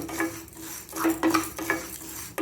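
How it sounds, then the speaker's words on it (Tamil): Lentils and rice dry-roasting in a pan, stirred steadily with a spoon: repeated scraping strokes over a light sizzle, close and clear with no talking. "நல்லா நல்லா பொன்னிறமாக வறுத்துணும் நல்லா வறுத்துட்டு போச்சு"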